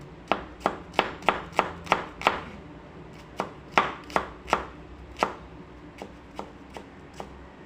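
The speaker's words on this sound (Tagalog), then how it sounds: "So, maghiwa ko ng sibuyas" An onion is chopped with a knife on a board while cooking a simple noodle breakfast, a quick run of sharp close taps, then a pause and a sparser, slower series of cuts, with no talk.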